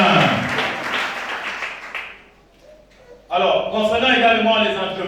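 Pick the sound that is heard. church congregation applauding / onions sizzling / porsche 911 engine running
church congregation applauding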